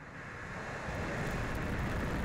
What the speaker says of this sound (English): And liftoff. Liftoff of NOAA's GOES team, our newest weather sentinel in the sky